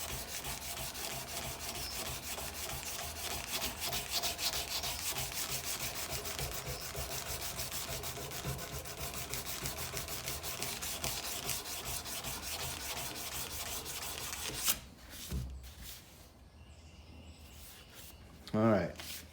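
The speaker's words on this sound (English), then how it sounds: "now I can do a little hand sanding" Steady rhythmic rubbing strokes of hand sanding on a knife made from an old file, close and continuous, then stopping near the end as handling clunks and a voice follow.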